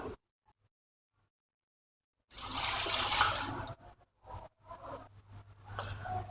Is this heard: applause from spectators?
no